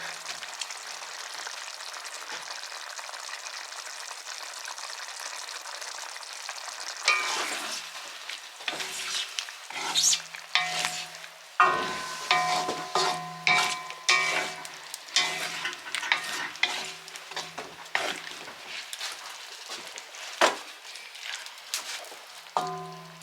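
Food is pushed around a cast iron wok with a wooden utensil, starting as a soft sizzle and turning into repeated scraping, knocking strokes over a light background frying hiss.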